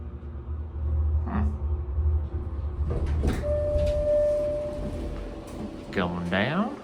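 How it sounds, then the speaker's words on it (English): The door of an early Otis Series 1 hydraulic elevator slides shut after the close button is pressed, a rumbling glide followed by a bump, with a steady tone and a chime near the end. "Door close button works."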